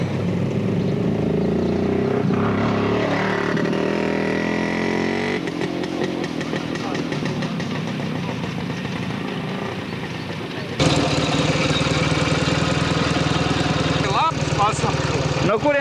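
Retro motorcycle engine running loudly nearby on a rally tour, a steady rumbling drone that shifts in pitch and rises in level partway through, with people talking over it.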